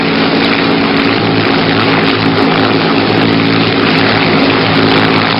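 P-51 Mustang with its Packard Merlin engine, a loud continuous propeller-engine roar with a deep throbbing drone, steady and close throughout.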